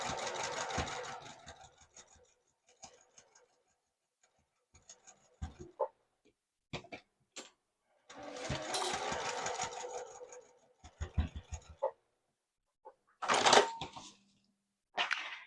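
Sewing machine stitching mesh pocket panels, running in short close bursts of rapid needle ticking separated by pauses and small handling clicks.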